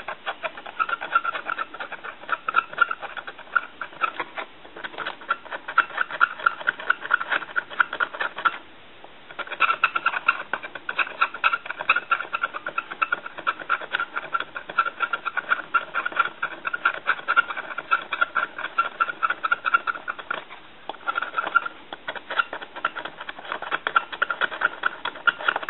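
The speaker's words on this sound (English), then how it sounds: "So our connections need to be resoldered. So we're going to go ahead and I want to scrape them down." Loose solder connections on an old Mickey Mouse telephone being scraped clean, a continuous rapid rasping scratch close to the microphone with brief pauses, heard alone.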